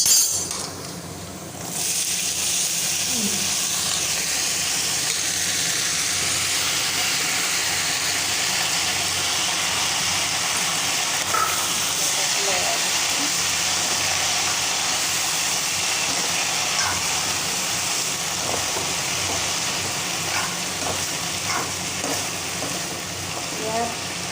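Onions frying in a pan until lightly browned for a red spinach dish, a continuous soft sizzle with occasional faint scrapes and clinks, steady and close throughout.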